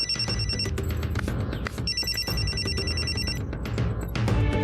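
A telephone rings loudly indoors, repeated electronic bell trills in bursts over a busy background of thumps and clatter.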